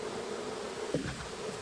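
Bees buzz around a tree on a regenerative farm, a steady low insect hum with one nearer bee briefly passing close.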